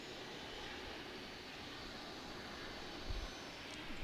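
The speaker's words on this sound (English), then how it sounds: "JetBlue's taking off to Boston." A JetBlue jet bound for Boston takes off from Raleigh-Durham airport, a distant, faint, steady engine roar heard alone as a broad, even rumble.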